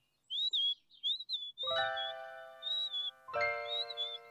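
A little blue cartoon bird squeaks and chirps in short high tweets, alone and clear, while bright jingling tones come in twice underneath.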